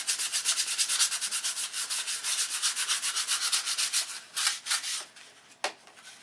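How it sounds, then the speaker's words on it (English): Detail sanding by hand with 150-grit sandpaper on a Continental wing tip, a quick run of rhythmic rasping strokes that slows into a few spaced, separate passes. "Now we're kind of detail sanding with 150."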